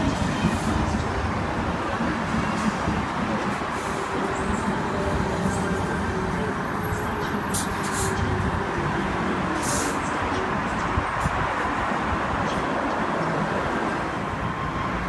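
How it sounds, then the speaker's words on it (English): Sydney Trains electric V set pulling into platform 2 at Milsons Point on an all-stations service to Gordon, a steady loud rumble and rail noise that persists throughout with faint high squeals. "We have a Gordon service approaching platform number 2."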